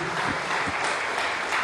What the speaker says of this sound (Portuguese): Podemos aplaudir o Espírito Santo?